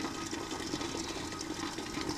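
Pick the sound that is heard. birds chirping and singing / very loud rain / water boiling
water boiling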